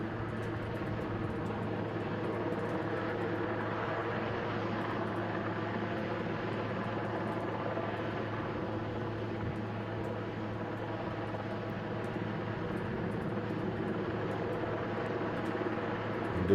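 A helicopter hovering while setting a giant new TV antenna into place in Parma, a continuous, even rotor and engine roar with a steady low hum that stays constant throughout.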